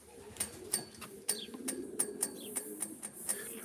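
Racing pigeons cooing softly inside a loft, a series of repeated coos and rustles with faint chirps, fairly quiet and close, with no talk over them.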